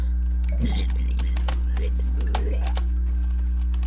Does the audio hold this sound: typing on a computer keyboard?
yes